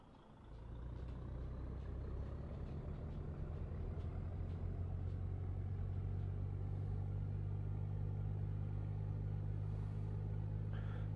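A DAF XF 105 truck in Euro Truck Simulator 2 pulls away after a quiet start, its engine swelling into a steady, deep diesel drone that holds loud and close for the rest of the drive, with no voices.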